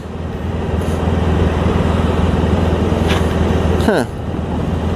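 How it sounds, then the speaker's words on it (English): Road traffic from the seat of a moving 1994 Honda ST1100 motorcycle: a loud, continuous roar of engine and wind, with a vehicle whooshing past near the end. "A lot of traffic."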